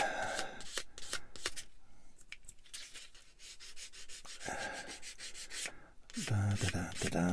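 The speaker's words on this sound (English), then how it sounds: "you just stroke the sander across the bit, you should be fine" A hand sander is stroked across a small plastic model kit part to remove nubs, making close, crisp rasping strokes in quick repeated bursts with brief pauses, and a quiet voice whispers between them.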